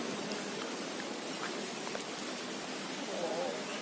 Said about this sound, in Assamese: বৰষুণ দি আছে